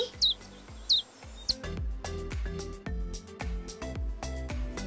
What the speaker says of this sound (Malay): Tengok, burung pun menyanyi.